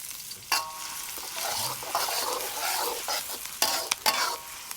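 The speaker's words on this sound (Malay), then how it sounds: "Tumis bawang merah, bawang putih, halia, cili padi merah dengan daun kari." Shallots, garlic, ginger, red bird's-eye chili and curry leaves sautéing in oil, a dense close sizzle broken by scraping stirs and a few sharp utensil strokes.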